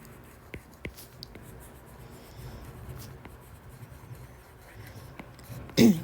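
Stylus scratching across a tablet screen while drawing in Procreate, a quiet, close, intermittent rubbing with a few soft taps and a brief louder scrape near the end.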